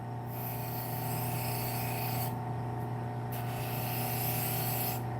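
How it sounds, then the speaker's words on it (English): A serrated knife edge runs against a sharpening wheel to work off the burr, producing a continuous close grinding rasp with a steady hum underneath and a brief dip partway through. "now in the serrated, we're going to run this along our wheel, and we're going to work our burr off."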